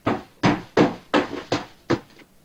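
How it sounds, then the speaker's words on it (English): A bedroom door is pounded in an audio drama scene, six heavy evenly spaced thuds arriving about every third of a second, loud and close with no voices. "I hear my father yelling as he continues banging on my door for a while"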